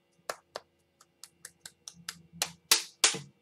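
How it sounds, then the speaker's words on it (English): Hands clap or snap about a dozen times in a quick sequence that speeds up and gets louder toward the end, close and dry, with no voices. "I don't know why I'm clapping. I just am."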